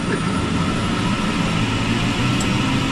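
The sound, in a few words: helicopter turbine engine starting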